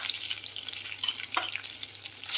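Spices and garlic sizzle steadily in hot oil with mustard seeds, cumin and asafoetida, a close, continuous crackling fry with a few brighter pops and no talking.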